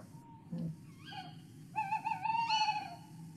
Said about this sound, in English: So I'm now going to play you the tawny owl call